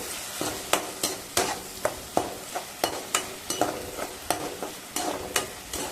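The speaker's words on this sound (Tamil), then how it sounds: "இப்போ நம்ம அரைச்ச பேஸ்ட் இருக்குல்ல, அதையும் இந்த ஆயிலோடு சேர்த்து நல்லா வதக்கிக்கலாம்" A freshly ground raw masala paste sizzles in hot oil with curry leaves for a rajma gravy, stirred in a steady rhythm of about a dozen sharp scrapes and clacks over a continuous fry hiss, close and with no talk.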